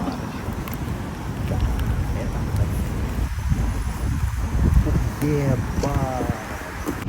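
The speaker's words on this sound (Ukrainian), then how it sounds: "Мотоцикл пошел." A motorcycle rides past on a hot summer city street in Kyiv, its engine rising and fading amid steady wind noise and road rumble, with people talking nearby.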